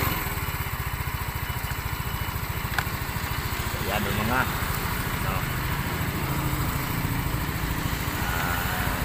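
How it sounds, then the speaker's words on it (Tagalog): A Yamaha Mio i 125 motorcycle engine idles after an overhaul with a cylinder block kit replacement, giving a steady, close, even putter throughout while someone talks briefly over it. "Maganda yung tunog ng makina."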